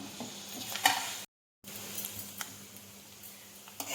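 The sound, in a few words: tempering of dried chilli, curry leaves and cumin sizzling in oil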